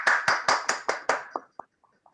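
A small group claps at an online Hindi webinar, six or seven sharp, evenly spaced claps that thin out into a few scattered final claps, fairly close and moderately loud.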